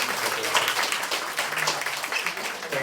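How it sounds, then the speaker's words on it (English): Audience applause after an author reading at a storytelling discussion event, a steady moderate wash of clapping from a seated crowd lasting a few seconds. "Did we give Kelly a round of applause?"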